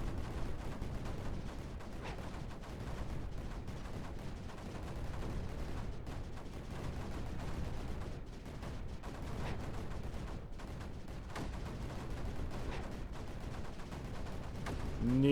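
Mortars firing in the strategy game Creeper World 4, a dense, steady barrage of muffled booms and gunfire-like pops rolling continuously, with no talk over it.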